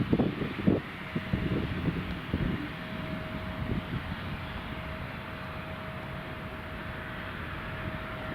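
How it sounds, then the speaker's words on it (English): A Loganair aircraft taking off at Newcastle Airport, a steady, fairly distant engine roar with a sustained whine, heard after a few seconds of wind buffeting and rumble on the microphone. "Logan Air clear for takeoff"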